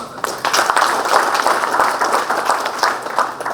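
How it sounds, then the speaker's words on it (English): Sustained applause from a conference audience, dense steady clapping filling the whole stretch at a fairly loud level. "can we have a huge round of applause?"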